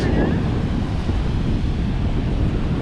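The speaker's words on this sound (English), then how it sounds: "The weather is a bit breezy." Steady breezy wind buffeting the microphone on a warm day at South Beach, a constant full rumble across the whole stretch, with a faint wash like surf beneath it.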